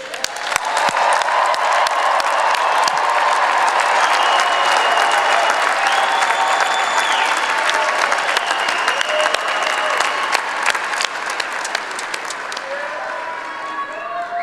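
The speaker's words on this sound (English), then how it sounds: "Please join me once more now in applauding all our graduates." Commencement audience applauding graduates at a 2022 summer/fall ceremony: sustained, loud crowd clapping fills the hall throughout, with scattered cheers and a few faint voices mixed in.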